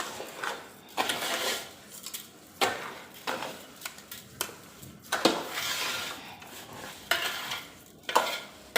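Semolina prasad with sugar and ghee is stirred in a pan, the spoon scraping in repeated rhythmic strokes about once a second over a soft sizzle, close and moderately loud, no talking.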